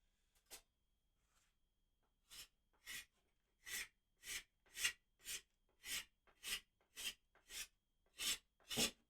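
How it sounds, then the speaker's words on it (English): A dozen short, regular scraping strokes clean excess stain off a guitar body, each a crisp rasp spaced under a second apart after a couple of isolated scrapes, close and alone. "There's a couple of little things I've got to scrape off here."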